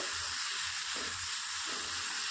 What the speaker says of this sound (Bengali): তারপরে আবারও ভালো করে নেড়ে এটাকে 2 মিনিট ঢাকা দিয়ে টমেটোকে একটু গলিয়ে নেব